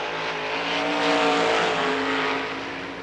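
A sprint race car on a time-trial lap at Lernerville Speedway, its engine a loud sustained high-pitched roar that swells as it passes nearer and then eases slightly.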